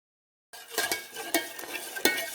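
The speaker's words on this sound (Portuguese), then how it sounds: "eu continuo mexendo" Lye being stirred into water for cold process soap: after a brief silence, a close spoon or whisk swirls and scrapes against a container in quick repeated strokes over a wet, hissing churn; no voices.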